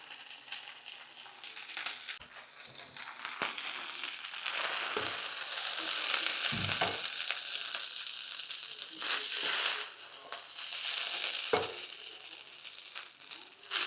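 Cabbage ribs frying in a stir fry, a soft continuous sizzle with occasional crackles and scraping stirs in a pan, fairly quiet and close, no talking.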